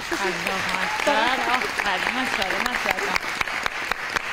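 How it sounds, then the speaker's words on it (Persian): Audience applause for a team at a word-guessing quiz show, steady clapping heard under a voice talking over it for most of the stretch. "یه بار دیگه تشویقشون کنیم."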